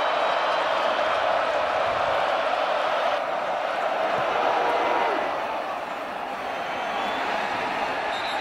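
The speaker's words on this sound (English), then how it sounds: "Another sellout crowd here, which has been the pattern all season long." Sellout stadium crowd at a Colorado Buffaloes versus Cincinnati Bearcats college football game in Boulder, a steady broad roar of many voices that continues without a break as an announcer talks over it.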